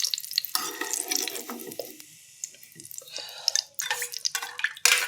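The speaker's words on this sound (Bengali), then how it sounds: "পনিরটা ভাজা হয়ে গেল" Paneer sizzles as it fries in a pan, with stirring and scraping strokes and brief lulls in the crackle. The frying stays close and fairly loud throughout.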